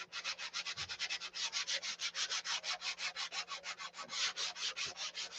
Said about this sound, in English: You get kind of the best of both worlds if you sand with 320 at this state